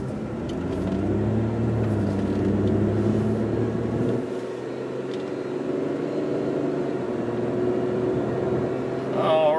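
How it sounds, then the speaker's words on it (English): A 2004 Kia Amanti under way on a test drive, its engine and road rumble droning steadily and close throughout, the engine note shifting as it accelerates, with no talk over it. "2004 Kia Amanti out on a quick test drive."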